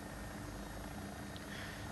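An AW109SP helicopter engine runs steadily in the X-Plane flight simulator, a constant whirring drone at low level with no talk over it.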